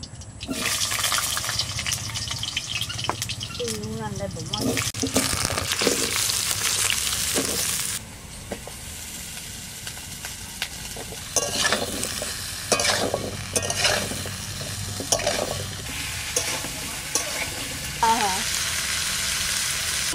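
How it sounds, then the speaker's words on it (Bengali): Vegetables frying in oil in a wok for Bengali khichuri, a loud continuous sizzle with stirring scrapes, shifting in intensity with a brief quieter stretch midway. "কড়াইতে তেল দিয়ে দিচ্ছি সবজিগুলো ভাজার জন্য"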